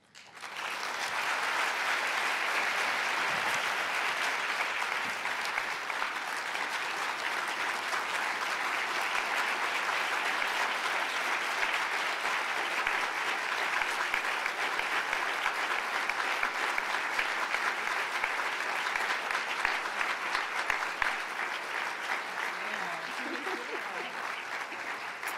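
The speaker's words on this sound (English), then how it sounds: "Please join me in a final round of applause for this remarkable group of women leaders." An audience at a panel of women leaders on a college campus crisis gives sustained applause, a steady dense wash of many hands clapping for a long stretch.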